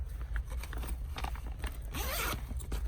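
A zipper runs along a JuJuBe bag, starting with a few soft scrapes, then a quick rasping pull up close near the end.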